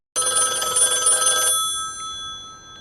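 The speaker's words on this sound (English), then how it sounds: "Suddenly the phone rang and Roy ordered English to pick it up." A telephone bell rings loudly and close for about a second and a half, then its metallic tone fades away.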